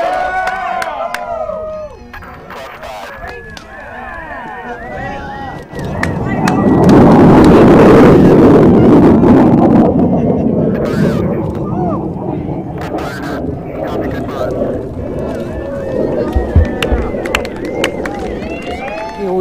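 Rocket launch at ignition after a terminal countdown, a deep roaring rumble building from around five seconds into a loud sustained roar, then slowly fading with distance while crowd noise and voices carry under it.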